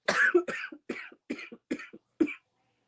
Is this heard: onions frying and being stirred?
no